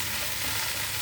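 A brief burst of popu, a seasoning tempered in hot oil for a jackfruit avakaya pickle, comes through as a dense, close, continuous sizzle and crackle lasting about a second.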